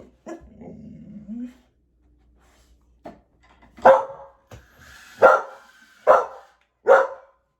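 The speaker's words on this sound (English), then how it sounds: "We all hear you, baby dog." Small dog barking nearby, four loud sharp barks spaced about a second apart after an earlier low growl and a few quieter yips, with faint background sounds between them.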